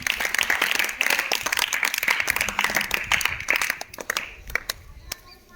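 Loud clapping from a class of students, dense and sustained for about four seconds before thinning into scattered claps and fading out.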